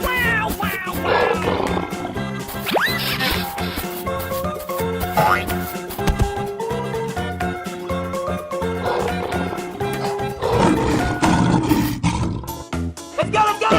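A lion roars in a video game escape-room challenge, loud and sustained over busy game music and sound effects, with a player talking excitedly.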